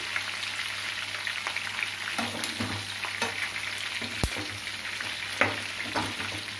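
Curry leaves crackle in hot oil in the pan used for frying chicken pakodi, a continuous bright sizzle with small pops and a few clanks of a spoon against the pan, heard alone.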